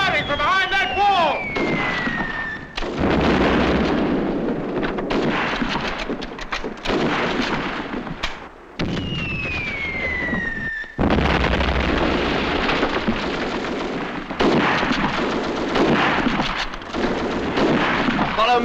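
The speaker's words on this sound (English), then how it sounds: "Firing from behind that wall!" Gunfire and explosions in a World War II battle scene from the 1944 British war drama, heavy broadband bursts filling most of the clip, with a whistling incoming shell rising in before each blast.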